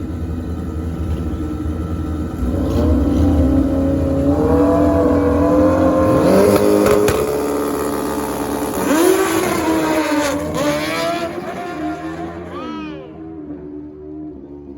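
Drag racing motorcycles launch side by side in a grudge race at a test-and-tune bike event, engines revving hard and rising in pitch as they pull away, loud and close, then fading out.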